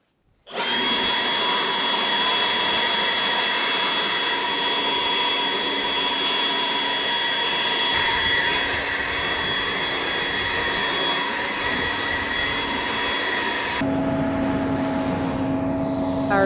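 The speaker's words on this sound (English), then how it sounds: "blower right here to blow off our combine" A handheld blower roars steadily as it blows dust and chaff off a combine harvester in a windy field, a loud continuous whine held for about thirteen seconds before cutting back to a lower idle.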